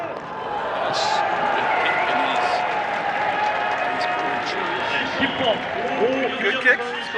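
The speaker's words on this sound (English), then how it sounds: "It's got the home crowd going." A home crowd in a main stand cheers and applauds after Korea's penalty kick in a rugby match against Japan, a sustained broad roar with a commentator talking over it.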